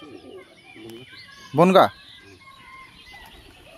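Pigeons coo and flutter close by, with a short louder burst of bird calls in the middle, while a person speaks briefly.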